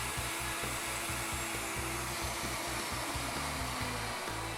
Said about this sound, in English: Plunge the router and route the mortise